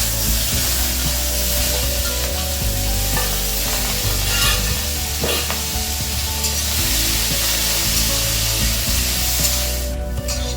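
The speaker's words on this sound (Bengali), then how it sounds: "এবার চিংড়ি মাছগুলো ভেজে নেব।" Prawns fry in a pan for a lau chingri dish, a steady loud sizzle with stirring and scraping clatter running throughout, no voices.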